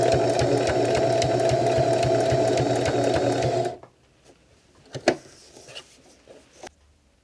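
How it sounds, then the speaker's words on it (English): A sewing machine stitches steadily through folded scrap fabric, a close, even mechanical whir with rapid rhythmic needle ticks that stops abruptly, leaving a few faint handling clicks and thumps. "You start sewing on a piece of folded scrap fabric."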